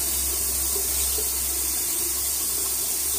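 Cold water runs steadily from a tap in a constant, close hiss, with nothing else over it.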